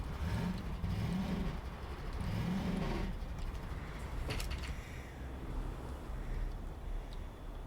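In the Garry's Mod sandbox game, a car engine drones steadily with a couple of rising revs near the start and a brief clattering knock midway, the motor continuing throughout.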